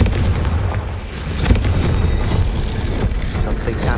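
A Confringo explosive spell blast in Hogwarts Legacy booms out amid a dense, rumbling wash of game effects, with one sharp hit standing out near the middle and a steady low roar throughout.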